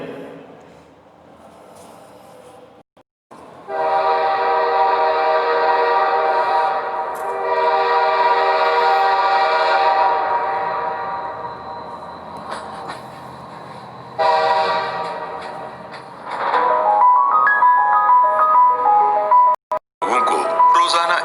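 A loud, sustained train horn blares in long blasts over rumbling rail noise, with a different melodic tone near the end.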